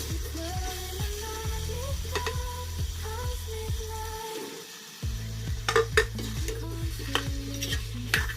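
Potatoes are stirred into a pan of frying desi chicken kosha, a spoon scraping and knocking the pot in a regular rhythm over a low sizzle, pausing briefly midway before resuming.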